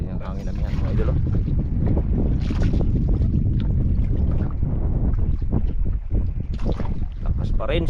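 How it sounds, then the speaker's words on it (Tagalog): Strong amihan northeast monsoon wind at sea buffets the microphone with a loud, continuous roar over sloshing water from a boat, while someone speaks over it. "Taas pa rin ang hangin amihan mga Idol oh."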